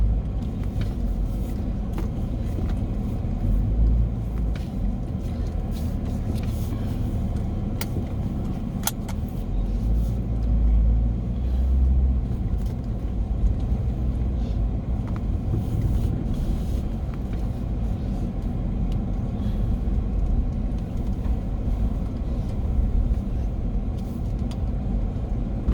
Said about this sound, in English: some time for some cars to pass by